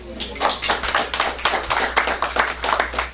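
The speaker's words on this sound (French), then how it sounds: "je parlais de Franck Benjamin, qui mérite vos applaudissements." Audience applause at a poetry event, heard as a small group clapping in a distinct, rhythmic pattern of close, separate claps, with a low hum underneath.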